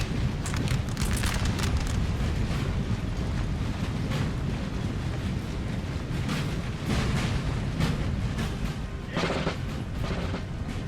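Artillery firing in the Napoleon Total War Battle of Castiglione, dense booming cannon blasts and rumbling battle noise filling the whole stretch, loud and continuous with sharper reports rising over the din.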